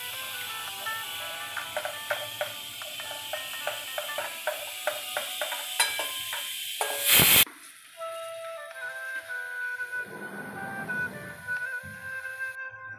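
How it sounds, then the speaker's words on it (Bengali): Pointed gourd fritters deep-fry in hot oil with a steady, bright sizzle and a run of small regular crackles, a sharp louder burst near the middle, then a calmer hiss. "এইভাবে বড়ার মতন করে ভাজবো। বড়াগুলো যখন এরকম লাল লাল করে ভাজা হয়ে যাবে, তখন আমি তেল থেকে তুলে নিচ্ছি।"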